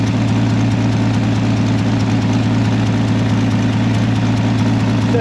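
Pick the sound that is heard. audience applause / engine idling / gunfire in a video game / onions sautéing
engine idling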